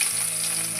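Ginger and garlic frying in hot oil, a steady bright sizzle close by with no talk.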